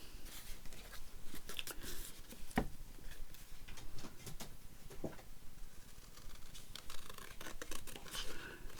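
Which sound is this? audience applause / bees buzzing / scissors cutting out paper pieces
scissors cutting out paper pieces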